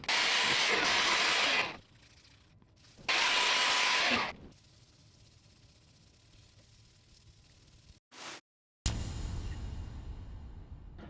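A 3D printed Nerf blaster bar is sanded in two loud, rough bursts of about two seconds each, separated by quiet pauses, with a final noisy stretch near the end.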